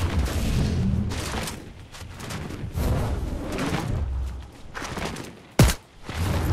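Suppressed gunfire from a silenced weapon in the Fortnite video game during a ranked solo zero build match, several muffled bursts of shots with a sharp crack near the end, loud and close, with no talk.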